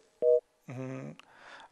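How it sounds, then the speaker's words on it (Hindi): Telephone tones mark a disconnected call: a short steady beep, then a louder buzzing tone lasting about half a second, followed by a fainter noisy burst. "आपकी कॉल कट गई है"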